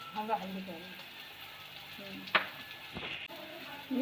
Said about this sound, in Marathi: आता कांदा चांगला भाजून घ्यायचा आहे आपल्याला.